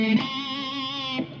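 A distorted electric guitar plays a palm-muted hammer-on power chord riff, one sustained buzzy chord ringing steadily for over a second with a picked attack at the start and a change near the end, alone and moderately loud.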